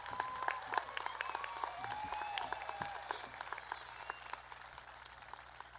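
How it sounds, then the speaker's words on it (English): Applause rises from the audience at a 2022 high school graduation ceremony for students graduating with highest honors, steady crowd clapping with a faint voice over the sound system. "highest honors. A round of applause."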